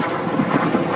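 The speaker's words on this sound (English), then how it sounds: "Jet trainer back on the stick, and up he goes, and rolling the airplane along the length of the shoreline." An L-29 jet trainer performs rolls along a shoreline at an airshow, heard as a steady, loud, broad roar of jet noise with some wind buffeting.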